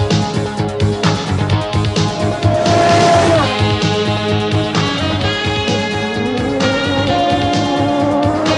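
Peugeot 205 Turbo 16 Evolution 2 rally car driving in Kenya, its engine loud and close, rising and falling through gear changes and revs with some tire noise, continuous across the stretch.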